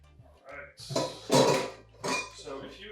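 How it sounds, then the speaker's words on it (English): Pasta boiling in a pot is stirred, producing a few metallic clinks and scrapes of utensil against the pot in quick bursts, heard close up between pauses. "We'll just give it a little bit of a stir."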